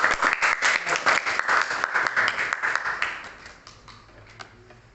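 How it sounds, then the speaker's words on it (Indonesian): Classroom audience applauding a fellow participant who answered a question, a short burst of brisk clapping from a group that fades out after about three seconds, leaving scattered claps and a quiet room. "Tepuk tangan untuk teman yang sudah menjawab."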